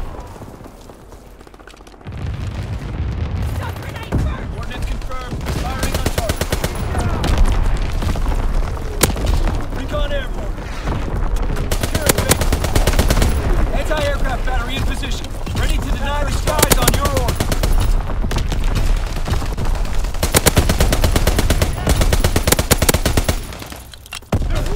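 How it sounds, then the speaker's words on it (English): Anti-aircraft fire in Call of Duty: WWII on the Shipment 1944 map during a domination match: dense, loud, rapid bursts that pound almost without a break after a brief quieter opening. "Anti-aircraft bursts commenced."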